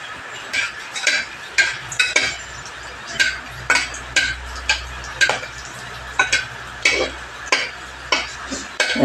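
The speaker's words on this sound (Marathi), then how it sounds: "वेलची लवंग चांगलं तुपात परतून घ्यायचं व्यवस्थित." Cardamom and cloves are fried in ghee for pineapple sweet rice, with a spoon repeatedly scraping and clinking against the pan in an uneven rhythm over a faint, soft sizzle.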